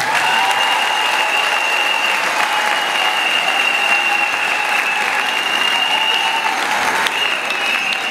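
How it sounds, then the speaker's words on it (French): Loud, dense audience applause fills a concert hall for a 70th-anniversary celebration in Senegal, steady and sustained throughout with a faint tonal hum running beneath the clapping. "nous allons les accompagner avec des applaudissements à nos musiques"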